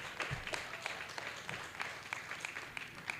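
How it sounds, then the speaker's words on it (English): Sparse applause at a school board meeting honoring student athletes from track events, a handful of scattered claps fairly faint over room murmur, thin and uneven throughout. "Let's give them a round of applause."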